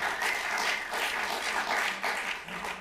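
An audience at a talk on chemtrails and geoengineering claps in a steady, moderate burst of applause, somewhat distant and without speech.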